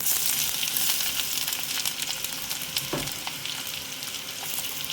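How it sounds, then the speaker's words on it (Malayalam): Medium-sized onion frying in a pan with spices for chicken stew, a steady soft hiss of sizzling oil throughout, with a brief low knock partway through. "മീഡിയം സൈസ് സവാള ഇടുന്നു"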